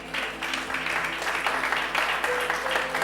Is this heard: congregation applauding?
yes